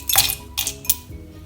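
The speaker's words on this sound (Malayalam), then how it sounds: "നമുക്കിതിലേക്ക് ഐസ് ക്യൂബ് ചേർക്കാം." Ice cubes drop into a serving glass for a sweet potato smoothie, giving three bright, close clinks in quick succession with no talking.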